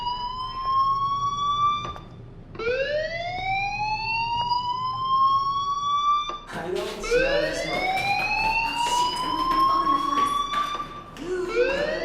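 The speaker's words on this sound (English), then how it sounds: "Hey, do you hear that fire alarm?" A school fire alarm in the game Life Is Strange wails in repeated rising electronic sweeps, loud and insistent, with brief gaps between cycles and voices speaking over it at times.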